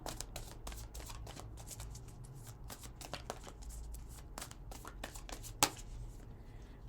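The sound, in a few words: shuffling an Earth Magic Oracle card deck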